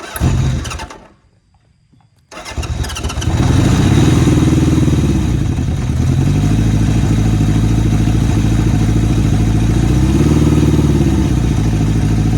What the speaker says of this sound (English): It kicks off right away, but then wants to sputter a bit